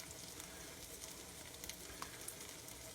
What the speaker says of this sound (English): Just going to deep fry some of these babies up